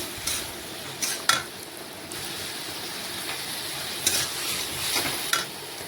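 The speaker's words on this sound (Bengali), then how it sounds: "নাড়াচাড়া করে আবারও বেশ কিছুক্ষণ আমি রান্না করে নেব তাহলে কিন্তু ঝিঙের গায়ে যেটুকু জল আছে সেটাও শুকিয়ে যাবে আর এইভাবে দেখুন কষিয়েও নিচ্ছি" Ridge gourd stirred and sautéed in a pan while being fried down until dry: a steady low sizzle with several light scraping strokes of a spatula at irregular moments, close and moderately quiet, with no talking.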